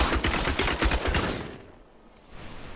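The Rapid Shot skill fires in the Diablo III beta, a loud dense volley of quick shots for about a second and a half that then drops into a quieter tail.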